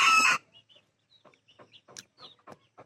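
A short loud squawk, then a run of soft, irregular clucks from six-week-old chickens close by, pecking along in a quiet setting.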